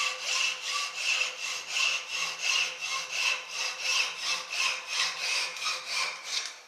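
Hacksaw with a sharp blade cutting wood in a steady rhythm of about two strokes per second, each pull and push giving a loud rasping scrape, close and alone.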